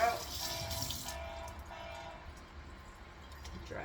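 Water runs from a kitchen tap as something is rinsed out beneath it, a soft close splashing stream that fades slightly over a few seconds.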